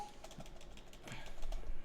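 Rapid typing on a computer keyboard, steady close key clatter lasting a couple of seconds.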